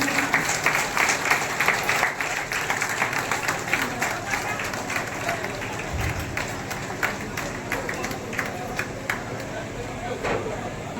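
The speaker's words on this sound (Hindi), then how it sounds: "ताली बजाइए" An outdoor crowd at a public gathering in India claps in a steady patter of overlapping hands, with voices talking beneath the applause.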